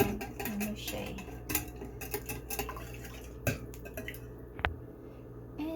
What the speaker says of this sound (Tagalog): And then, mix that one.